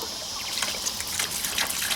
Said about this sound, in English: I got water coming there